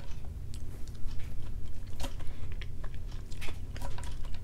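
Fried potatoes at breakfast being eaten up close, with steady crunchy bites and chewing that repeat in an irregular rhythm, loud and near to the microphone with no talking.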